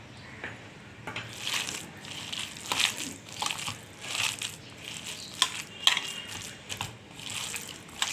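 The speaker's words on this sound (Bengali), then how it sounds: "ভালো করে ফেটে নিতে হবে।" Cabbage pakora batter with a spoonful of refined oil is mixed by hand, giving repeated wet squelching, crunching pulses in an uneven rhythm. The sound is close and moderately loud, with no voices.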